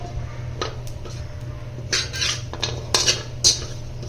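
Whole spices for Maharashtrian garam masala are dry roasted in a pan. A spoon scrapes and clinks against the metal in scattered strokes over a low steady hum, close and without talking.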